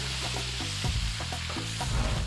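Fried meat returned to a pan of sautéing onion and garlic, giving a steady sizzling hiss with soft stirring scrapes underneath a continuous droning background tone.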